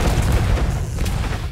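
Rapid gunfire and a booming blast from the shooter game Mothergunship: a dense, loud barrage of low thumps and crackling shots packed into a short burst, with no talk.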